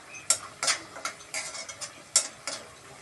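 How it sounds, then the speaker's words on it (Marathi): A spoon stirs grated fresh coconut gravy frying in a pan for a field bean curry, making soft irregular scrapes and clinks over a faint sizzle, close by. "मस्त छान ओलं खोबरं छान परतून छान ग्रेव्ही तयार झाली आहे"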